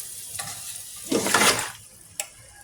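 Chicken feet go into a hot pan with soy sauce for adobo, giving a brief burst of hissing sizzle and stirring between soft clinks, close and moderately loud.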